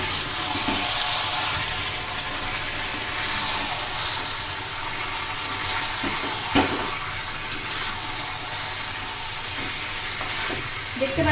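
Chicken curry cooks in a pan after chopped tomato goes in, giving a steady, close frying sizzle with the scrape and clatter of stirring throughout and no talk.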